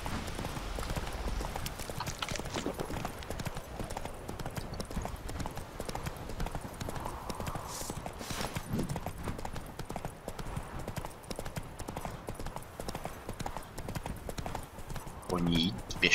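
Horse hooves clip-clopping at a steady walking pace in The Witcher 3 video game, a quiet continuous rhythmic patter running throughout beneath occasional speech.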